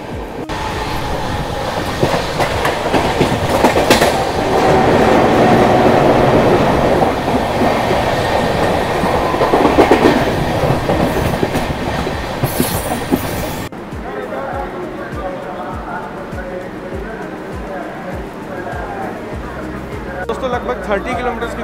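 A long-distance express train running on rails near Mumbai, racing a Mumbai local train, with a steady loud rumble and clatter of wheels that drops to a quieter, muffled ride partway through.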